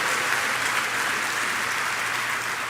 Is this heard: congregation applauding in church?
yes